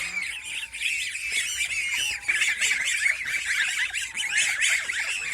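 Geese on a goose farm squawk and honk continuously, a flock calling over one another at moderate volume for several seconds, with no speech.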